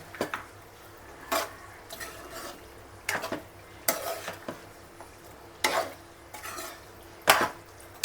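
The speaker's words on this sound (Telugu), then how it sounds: "ఒకసారి కలుపుదామండి" A spoon stirs curry in a metal pot in a steady series of scraping, clinking strokes, each a short scrape a second or so apart, close and moderately loud with no talking.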